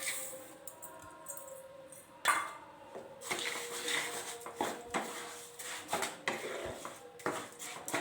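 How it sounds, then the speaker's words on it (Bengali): Tomato chutney with sugar is stirred in a cooking pot, giving repeated metal scrapes and clinks of a spoon against the pot in an irregular rhythm, close and moderately loud. "দিয়ে ভালো করে মিক্স করে নেব।"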